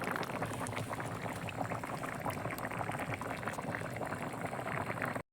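Jackfruit and fish curry bubbling steadily in a pot, a dense continuous simmer of popping liquid heard close up and fairly faint, alone without talk, cutting off abruptly at the end.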